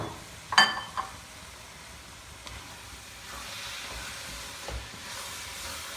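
Carrot halwa roasting in a pan gives off a low, steady hiss and sizzle that swells a little in the second half, with a few faint knocks near the start.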